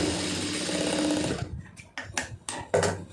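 A sewing machine stitches a fabric lining piece for tailoring, running in a steady continuous whir for over a second before stopping, followed by a few short clicks and handling sounds close by.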